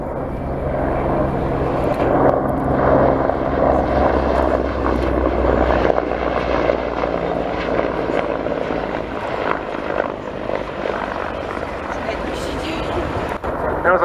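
A Mil Mi-24 Hind helicopter flies past at the RIAT 2022 airshow, its loud rotor and engine roar filling the whole stretch and easing slightly toward the end.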